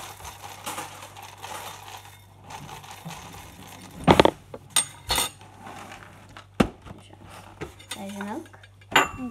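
Spoon and bowl clatter while Coco Pops are being made with milk, with sharp clinks and knocks scattered through the second half over a low steady hum and faint background voices.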